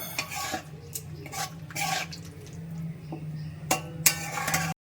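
Spoon stirring a spice mix of black salt and chaat masala into okra in a pan, scraping and clinking near and close in short bursts, with a steady low hum underneath.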